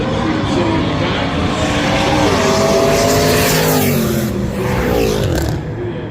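Roll racing cars thundering past at a motorsport park in Adelaide, a loud, sustained engine roar with rising and falling revving tones as several cars accelerate close by, crowd-level ambience beneath and no talk.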